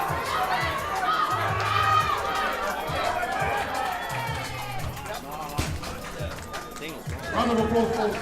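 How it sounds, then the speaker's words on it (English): Weightlifting audience at the Auckland Cup 2024 applauds and cheers after a woman's successful final lift, a loud, sustained crowd roar with shouts and chatter mixed in throughout. "applause for Stacey on the final lift of the day"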